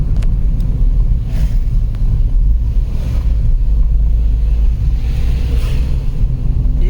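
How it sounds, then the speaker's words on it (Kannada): A boat ride on the water near Honnavar, with a loud, continuous low rumble of engine and rushing wind buffeting the microphone throughout, with no voices. "ಇವಾಗ ಬಂದಿದ್ದೀವಿ ಬೋಟ್ ರೈಡಿಂಗಿಗೆ"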